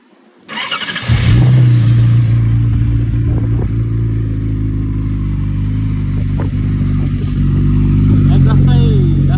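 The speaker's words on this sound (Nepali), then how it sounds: "अब म हजुरलाई बाइकको साउन्ड सुनाउँछ" A Yamaha R6 superbike engine starts with a short crank, catches quickly and settles into a loud, steady, close-up rumble that holds evenly.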